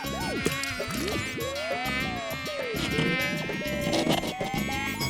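Cartoon mosquito buzzing from an animated Hindi children's story, a loud, close, wavering whine with rising and falling pitch sweeps, continuous throughout.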